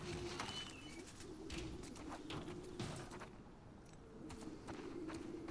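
Pigeons coo in low repeated tones alongside scattered faint bird chirps in The Last of Us Part II, set against quiet ambience with soft footstep-like taps.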